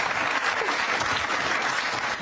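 Studio audience applause on a daytime talk show, a dense steady wash of clapping filling the room for a couple of seconds without pause.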